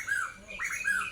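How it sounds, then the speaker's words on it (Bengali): Morning birds calling around a village home: a few sharp, squawking chirps repeat in quick bursts over about a second, fairly close and clear with no voices. "সকালবেলার কিচিরমিচিরে যে পাখিগুলো ডাকে"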